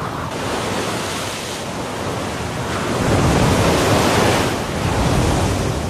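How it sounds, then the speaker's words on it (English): Storm waves surge and crash on a raging shallow sea, a continuous loud roar of surf and wind that swells stronger midway and stays dense throughout, with no voices. "another raging storm rolls in across the shallow sea"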